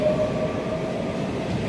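A train at Delft railway station gives a steady, loud rumble of rolling stock with a thin high squeal running above it, continuous and close by.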